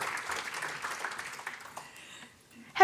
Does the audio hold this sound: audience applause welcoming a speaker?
yes